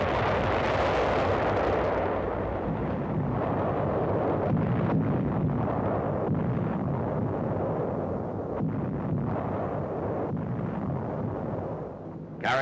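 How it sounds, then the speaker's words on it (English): WWII naval shelling of Iwo Jima before the amphibious invasion, heard as heavy rumbling booms and a dense roar of bombardment rolling continuously in old newsreel sound, with no voices. "Navy films show phases of the three-day bombardment prior to amphibious invasion of the 8-square-mile island"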